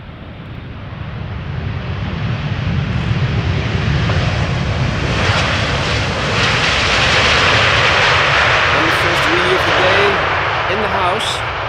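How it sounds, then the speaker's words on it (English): A KLM Boeing 787-10 Dreamliner arriving from Delhi at Amsterdam Schiphol rumbles in loud and close, a broad jet roar building and holding steady, with wind buffeting the microphone. "KLM Flight 872, Boeing 787-10 Dreamliner arriving from Delhi"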